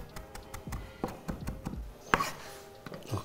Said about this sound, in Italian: vado a tritare un pochino di prezzemolo